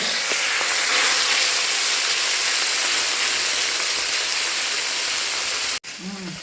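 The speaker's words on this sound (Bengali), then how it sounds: "চুনো মাছগুলোকে ভাজাভাজি চলছে" Small fish frying in a pan give off a loud, dense, continuous sizzling hiss that cuts off abruptly near the end.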